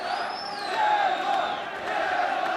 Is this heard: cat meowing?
no